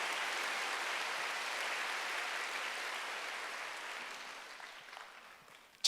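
A church congregation applauds during a Sunday worship service, dense steady clapping that slowly fades toward the end.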